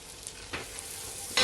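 Flour goes into melted unsalted butter in a pan, bringing a soft steady sizzle broken by two brief scraping stirs, close and without talk.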